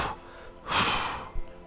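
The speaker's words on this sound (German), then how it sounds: "geht ihr tief und verstärkt die Ausatmung unten zweimal" Forceful breaths pushed out during a squat in a home fitness workout: a short burst, then a longer, louder rushing exhale, close and alone with no talk.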